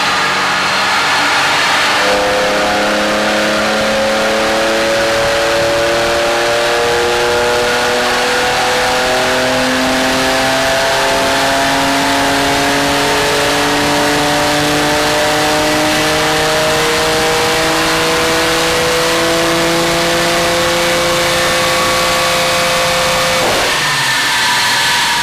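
A reprogrammed BMW M4 GTS on a dyno revs loud and close, its engine note climbing steadily through the gears in long rising sweeps for over twenty seconds before cutting off sharply near the end.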